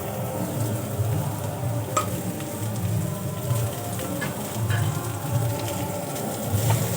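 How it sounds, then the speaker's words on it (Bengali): Shredded cabbage frying in a pan with onion and green chilli, a steady close sizzle with occasional stirring scrapes and soft crackles. "পেঁয়াজ আর লঙ্কার সাথে বাঁধাকপিটাও কিছুক্ষণ আমি ভালো করে ভেজে নেব।"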